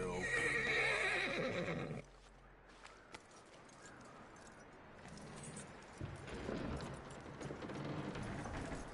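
A horse in the Red Dead Redemption 2 video game gives a loud whinny up front, followed by quieter clip-clop hooves, jangling tack and mechanical clicks, with a brief spoken word.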